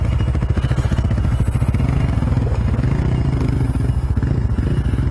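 A motorcycle fords one of the deeper rocky creek crossings on Condamine River Road, water up to the foot pegs over big rocks; its engine drones steadily and loudly up close with clattering over the whole stretch, no talk.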